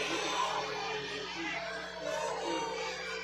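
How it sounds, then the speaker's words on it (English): A high school basketball crowd in a gym reacts with a loud, continuous roar of booing and yelling after a foul call, sustained throughout. "the crowd really doesn't like that one"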